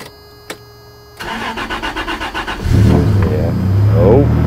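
A car engine cranks with rapid starter-motor chugs, catches, and revs up to a loud, rough idle close by, a single short click sounding beforehand.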